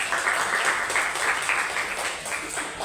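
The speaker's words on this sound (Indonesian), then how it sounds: "sekali lagi aplaus untuk kita semua" A classroom full of students applauds at once, a dense steady wash of clapping that holds evenly for a few seconds.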